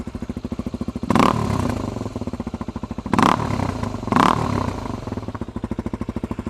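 A Suzuki DRZ250 dirt bike idles with a steady, muffled exhaust putter through an FMF Quiet Core insert, broken by three short blips of the throttle that rise to a louder rasp.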